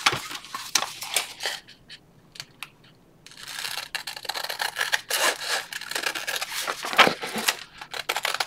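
Scissors trimming paper for a handmade journal, a series of short crisp snips and paper rustles close by, a brief quiet gap, then denser cutting and handling noises.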